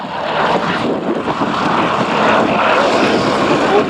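A Douglas DC-3 Dakota propeller aircraft drones steadily and loudly throughout, its engine roar mixed with buffeting wind noise and no break in the sound.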